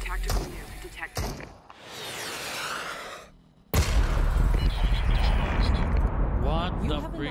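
A tactical nuke goes off in the battle royale game Super People, a rising roar followed after a brief dip by a huge sudden blast and long rumbling aftermath, with a voice speaking over it.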